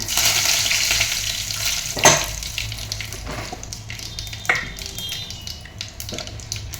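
A handful of curry leaves tossed into hot oil with mustard seeds, giving a lively crackling sizzle with a sharp burst partway through and occasional spoon clinks, close by.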